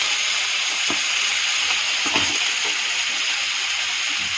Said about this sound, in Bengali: এর মধ্যে জিরা ছেড়ে দিলাম, কয়েকটা কাঁচা লঙ্কা ছেড়ে দিলাম, একটু পেঁয়াজ কুচানো ছেড়ে দিলাম।